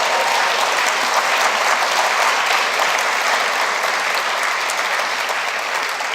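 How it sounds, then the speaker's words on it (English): A university prize-giving audience bursts into dense, loud, sustained applause, many hands clapping together in a steady wash of sound that holds at full strength for several seconds. "Give yourselves a round of applause for being brilliant."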